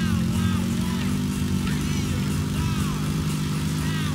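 A motorcycle engine drones steadily in Grand Theft Auto 4, a continuous loud buzzing hum with shifting pitch as the bike rides along, with no pauses throughout.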